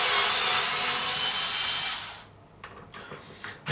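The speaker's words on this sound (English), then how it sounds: "Bought an electric screwdriver for a reason." An electric screwdriver whirs loudly and steadily up close while backing screws out of an Ibanez Roadstar II RG200 guitar neck, then cuts off and leaves a few light knocks and handling taps.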